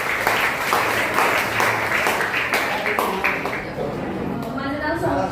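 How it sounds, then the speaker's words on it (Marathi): A school audience applauds students with steady, loud clapping from many hands that continues for several seconds, then thins out toward the end with some background voices. "जोरदार टाळ्या त्यांच्यासाठी."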